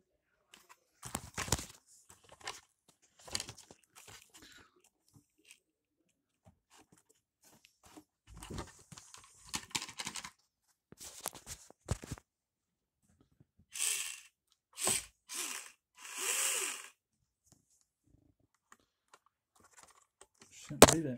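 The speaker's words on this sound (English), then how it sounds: "Let's see, where would that noise be coming from? Is it that U joint rubbing?" SCX24 RC crawler motor and drivetrain run in short, scattered bursts of whirring and rattling clicks, separated by quiet gaps, with a few longer tonal whines near the end and a rubbing U joint suspected in the drivetrain.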